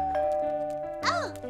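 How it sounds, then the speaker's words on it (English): A cartoon doorbell rings a bright two-tone ding-dong, loud and close, with animated character voices and music around it. "The doorbell!"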